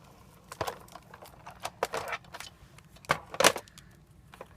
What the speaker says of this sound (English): I'm going to go ahead and run my die through like I always do.